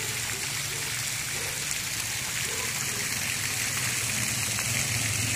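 Water flowing from a tank in Siloé, Cali, toward the Cañaveralejo river, a steady, continuous rushing trickle with constant level and faint background hum.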